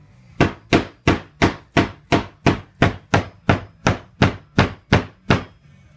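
Hammer striking a wooden toy during a repair, with fourteen sharp, evenly spaced blows at a steady rhythm, close and clear, with no talk.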